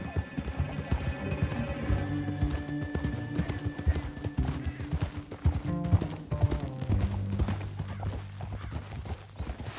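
Horse hooves clip-clopping in the video game Red Dead Redemption II: a steady rhythmic gait of several horses at close range, with an occasional whinny, under a low musical score.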